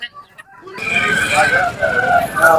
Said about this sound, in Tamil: கறிக்கான கோழிகள் வரது வந்து இந்த தடவை நிறையாவே இருக்கு